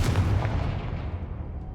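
The Confringo fire blast spell in the Hogwarts Legacy video game lands as a single heavy booming blast, loud and close at the onset, then a rumbling tail that fades over the next second or so.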